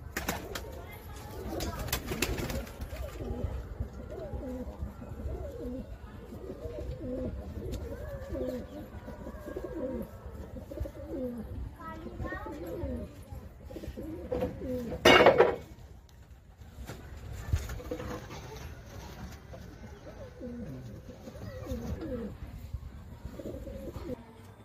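Madras pigeons coo in low, repeated bursts throughout, with people talking over them and a sharp clatter of dishes or metal midway.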